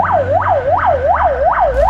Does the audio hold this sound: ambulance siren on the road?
yes